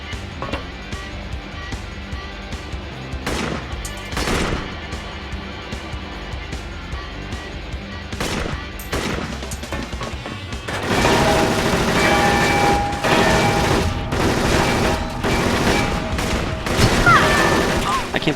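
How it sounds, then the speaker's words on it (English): Repeated bangs and bursts from flashbang grenades in the video game Perfect Dark Zero, a string of sharp explosions through the stretch, growing denser and louder toward the end amid game effects, with a voice talking over parts of it. "I can't believe that guy still had any flashbangs left"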